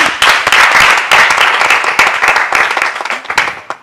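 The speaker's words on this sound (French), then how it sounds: "Et c'est encore à applaudir." Loud, steady applause from a church congregation fills the space, dense overlapping claps sustained throughout with slight swells, close and enthusiastic.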